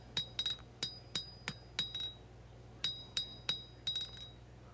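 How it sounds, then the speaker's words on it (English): Hand hammering of a hot blade forged from a worn-out steel file, drawing down the point from spine to edge: sharp ringing metallic strikes in quick bursts of two to four blows with short pauses, close and alone. "hammering from the spine side down to the edge side"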